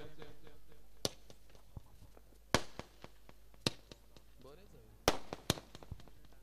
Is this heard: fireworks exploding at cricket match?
yes